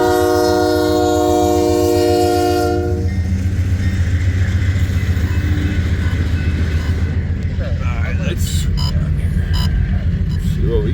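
A freight manifest train passes nearby, opening with a loud blaring horn chord that gives way to heavy rumbling and clattering wheels on rail, staying loud and close throughout.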